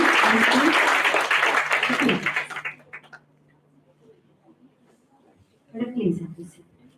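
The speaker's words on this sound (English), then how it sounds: "With round of applause once again." Audience applause at a conference session, a loud burst of clapping for about three seconds that fades out, followed by quiet and then brief talking.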